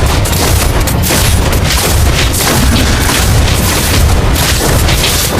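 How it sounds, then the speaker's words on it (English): Mobile Legends turret destruction explosion in a game match, a loud, dense roar of booms and crackling blasts that fills the whole stretch without letting up. "Your team destroyed the turret."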